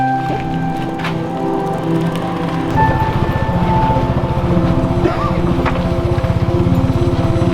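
A tuk-tuk carrying passengers toward the temples of Angkor, its small engine starting partway through into a steady, close, buzzing drone with strong rhythmic low pulses, plus some wind noise.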